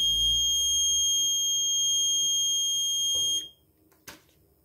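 A continuous electronic alarm tone from an MQ-3 alcohol detector sounds for about three seconds over a low hum as the vehicle engine stops, then cuts off, followed by a brief click.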